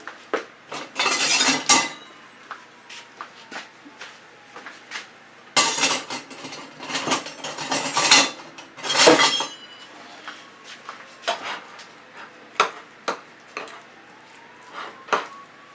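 A large spoon clanks and scrapes around a bowl of thick waffle batter, with bursts of stirring and clinking separated by short pauses.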